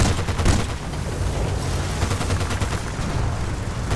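Heavy sustained gunfire in a snow mission of the shooter game Battlefield Bad Company 2, a loud, dense, continuous rattle of rapid shots with booming low rumble throughout, with no talk.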